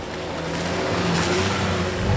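A rented Nissan R34 Skyline engine running steadily and close by, its tone holding through the clip and swelling slightly at the end as it revs, with no talking.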